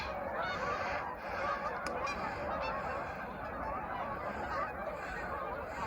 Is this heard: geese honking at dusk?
yes